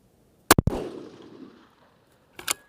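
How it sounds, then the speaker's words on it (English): A 6GT precision rifle firing a 112-grain Barnes Match Burner cartridge during PRS load development: one sharp, loud near report with a rapid echo, a rolling tail that fades out, then a faint distant impact crack. "when I shoot these cartridges"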